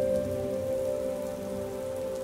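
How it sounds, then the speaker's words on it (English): Steady rain falls on a surface in a continuous, even patter with no voices, joined by a constant faint tonal hum throughout. "As the rain is falling"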